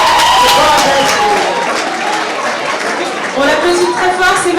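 A crowd at the Miss Est Afric 2015 pageant evening applauds and cheers a contestant, a dense wash of clapping and voices filling the whole stretch at steady loudness.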